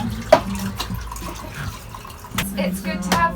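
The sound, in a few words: running water from a tap on a boat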